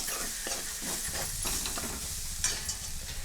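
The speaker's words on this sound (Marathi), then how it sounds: "एक अर्धा चमचा हळद आहे छान असं हे मिक्स करून घेते मी" A spatula stirs coriander powder and turmeric into a sizzling pan, giving close scraping strokes over a steady frying hiss, with no speech.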